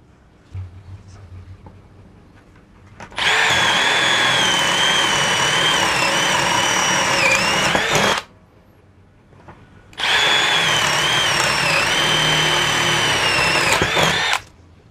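A Milwaukee M12 cordless impact drill in drill mode at speed 2 whirs loudly in two long bursts of about five seconds each, separated by a brief pause, its steady motor pitch wavering slightly under load.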